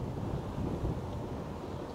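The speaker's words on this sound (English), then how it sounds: "It's very windy, it's wet," Gusty wind buffets the microphone on a wet, mild December day at an allotment plot, producing a low, continuous rumble with no speech.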